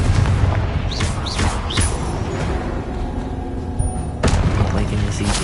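Explosive Confringo spell blasts in a Harry Potter video game, a loud, dense barrage of booms over continuous rumbling, with a fresh heavy burst late on.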